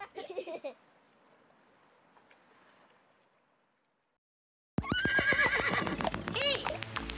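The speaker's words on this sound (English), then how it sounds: "I think there's a horse outside" A horse whinnies briefly at the start, followed by a faint low rumble, silence, then a loud burst of busy harmonic sound.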